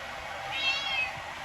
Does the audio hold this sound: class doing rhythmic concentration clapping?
no